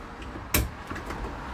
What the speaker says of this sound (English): So just opening the door,